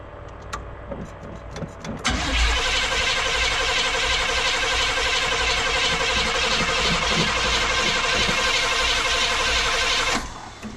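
A frozen 454 big-block engine in a square-body Chevy truck cranks and catches, then runs with a loud steady rumble for several seconds before cutting off.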